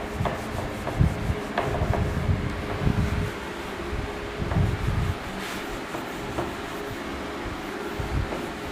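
Rubbing writing off a classroom board during a physics lesson on capacitor grouping: a steady, close scraping and brushing texture with irregular rhythmic strokes, moderately loud, with no talk.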